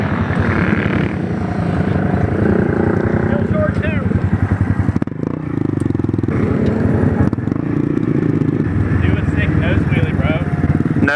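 Honda Grom minibikes rev and buzz nearby during a Fourth of July group ride with wheelies, their engines droning loudly and rising and falling in pitch throughout, mixed with wind noise.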